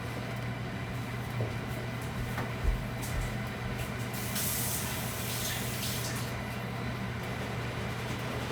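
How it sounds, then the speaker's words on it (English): Water poured into a pot holding a whole 29-ounce portion of tomatoes makes a steady, soft rushing pour, with a faint constant hum underneath. "And I'm going to put some water in here too."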